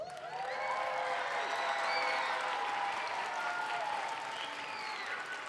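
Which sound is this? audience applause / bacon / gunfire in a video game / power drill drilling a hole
audience applause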